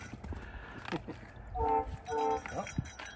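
A train horn sounds near a tunnel at Whittier, Alaska, two steady blasts heard at a distance, faint beneath voices and outdoor noise on a hiking trail.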